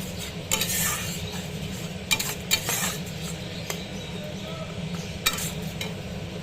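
Bhetki fish bones simmering down in a pan with a little water over a lowered gas flame give a soft sizzle, broken by repeated metallic spatula scrapes and clinks against the pan.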